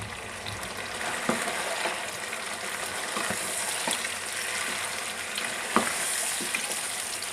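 Masala paste fries in a pan with a constant sizzle, with occasional sharp clicks and scrapes from a stirring spoon against the metal.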